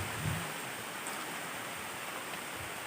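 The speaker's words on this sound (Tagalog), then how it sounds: "dito ang ulan" Rain falls steadily around a reportedly haunted house, a faint, even hiss of drops that continues unbroken without any voices.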